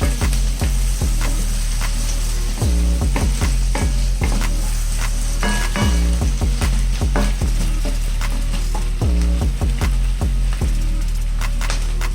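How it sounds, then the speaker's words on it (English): Broccoli cheddar soup ingredients being stirred in a pot, with a steady loud sizzle under repeated scraping strokes of the spoon against the pot bottom, no talking. "You're going to give it a little stir."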